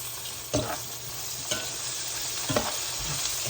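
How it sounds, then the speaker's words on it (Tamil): Onion and drumstick pieces sauté in a pan under an even sizzle, with three distinct stirring scrapes spaced about a second apart, close by and without talk. "இப்போ முருங்கைக்காயையும் போட்டு கொள்ளுவேன் அதையும் சாதுவாக வதக்கி கொள்ளுவோம்"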